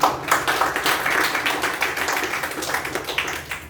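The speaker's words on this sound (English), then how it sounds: "give a big round of applause?" An audience at a youth leadership program meeting breaks into applause: a close, lively burst of many hands clapping that holds for nearly four seconds, then eases slightly.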